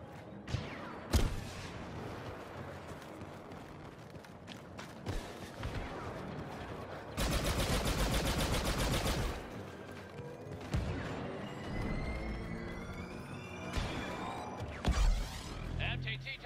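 Video game battle with scattered gunshots and heavy impacts, including a sustained burst of rapid covering fire in the middle, amid explosions, mechanical noise and shouted voices.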